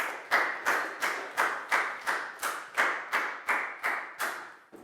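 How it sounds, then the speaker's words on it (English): Pupils in a Year 4 maths class clapping for a classmate in unison, about a dozen loud, evenly spaced claps in a steady rhythm, each ringing briefly in the room, no talk over them. "High five and a big round of applause for Prau, please, guys."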